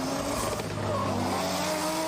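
A loud drift car engine at a drift competition in Malaysia holds steady at high revs, bouncing against the rev limiter with anti-lag and tire squeal mixed in, continuous throughout.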